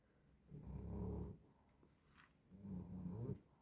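A sleeping dog snores in two slow, drawn-out breaths a couple of seconds apart, soft and close, in a quiet room.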